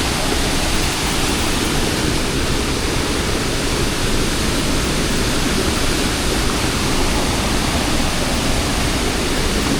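A full monsoon waterfall roars as a loud, dense, unbroken wash of falling water, close and steady for the whole stretch with no voices over it.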